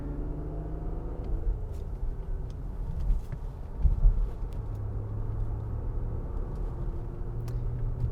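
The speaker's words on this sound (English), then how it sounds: "Love the sound of the V6 too." A 2022 Infiniti QX60 crossover with a V6 engine drives along a back road, giving a steady low engine rumble and road noise with mild swells in intensity throughout.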